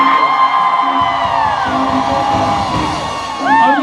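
A karaoke party audience whoops and yells together, a loud crowd of high screams and cheers swelling and rising to a fresh burst near the end.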